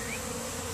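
A continuous close-up buzzing of honey bees from a swarm, a steady droning hum with no other sounds, constant in loudness for the brief moment.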